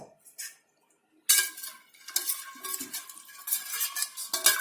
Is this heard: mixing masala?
yes